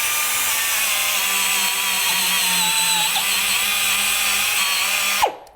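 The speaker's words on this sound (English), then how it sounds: "I want you to hear a 1 horsepower air tool" A 1-horsepower air tool runs loud and continuously at high speed for about five seconds while cleaning Kia Soul brake parts, its pitch wavering slightly under load before it cuts off abruptly.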